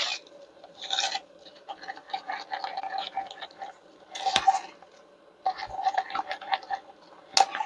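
Glitter glue being scraped from the sides of its container, making close, gritty rasping strokes in short bursts with brief pauses between them.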